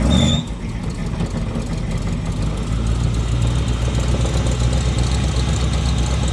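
A classic car nicknamed Bad Betty, with a 350 V8, Edelbrock 4-barrel carburetor and chromed-out aluminum radiator, idles up close in a steady, loud, even rumble that holds without a break.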